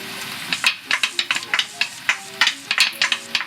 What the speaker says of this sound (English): Let's start stirring this around a little bit.